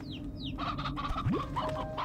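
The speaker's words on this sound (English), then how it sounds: "Okay, stony hens." Stony hens in the video game Slime Rancher 2 cluck and chirp in a short run of bright, overlapping calls, with a few sweeping bird-like tones over a steady ambient game background.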